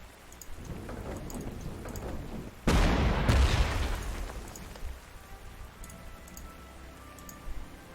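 Rain falls and thunder sounds in the Panzer Corps 2 war game, a steady hiss of rain broken by a sudden loud thunder crack that rumbles and fades over several seconds.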